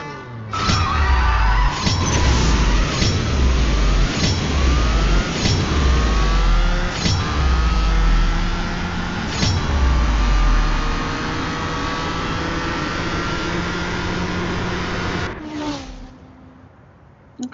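A BMW M2 Competition on a test drive in the CSR2 racing game, its engine revving hard through repeated upshifts, each climb in pitch broken by a shift, loud and steady throughout, ending with a short whoosh and a sharp click.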